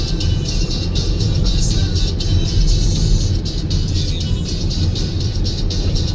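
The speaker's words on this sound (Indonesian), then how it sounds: "Karena padatnya arus lalu lintas yang ke arah Solo ataupun mungkin nanti menuju Semarang." Dense holiday traffic rolls along the toll road toward Solo between Karanganyar and Klaten in Java, Indonesia. It comes through as a continuous low rumble and tire roar heard from inside a moving vehicle, with steady broadband noise and no distinct pass-bys.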